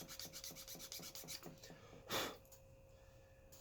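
Steel file rasping repeatedly across a knife's catch to flatten and sharpen it, a quick series of close, gritty strokes followed by one louder, longer scrape, with faint background hum.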